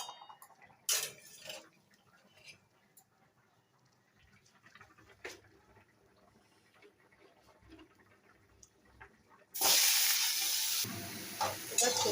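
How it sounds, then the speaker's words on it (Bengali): Drumstick vegetables drop into hot oil left in the pan, setting off a sudden loud sizzle that holds steady for a couple of seconds, after quiet clinks and small kitchen noises. "সজনে ডাঁটাটা ওই তেলের মধ্যে উঠে দিলাম"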